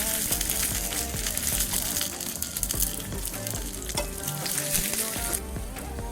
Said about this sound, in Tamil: கொஞ்சம் கடுகு, வெந்தயம், கொஞ்சம் ஜீரகம், பெருங்காயத்தூள், 3 வரமிளகா, கருவேப்பிலை, வெங்காயம் போட்டு நல்லா தாளிச்சு கொட்டிடலாம்